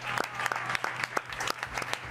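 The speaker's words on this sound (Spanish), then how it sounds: "¡Aplauso, por favor!" A small studio audience claps steadily for a short stretch during a talk show, with a low background hum underneath.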